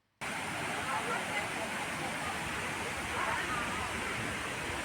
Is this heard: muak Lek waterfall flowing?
yes